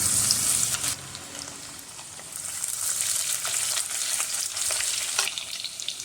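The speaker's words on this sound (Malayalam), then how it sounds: "ഒരു പീസ് ഇഞ്ചിയും കൂടെ നീളത്തിൽ അരിഞ്ഞുകൊണ്ട് അതും കൂടെ ചേർത്ത് നന്നായിട്ടൊന്ന് വഴറ്റി കൊടുക്കാം." Fenugreek, garlic, ginger and green chilli frying in a pan, a continuous crackling sizzle with bursts of stirring and spatter, close and fairly loud, no talk.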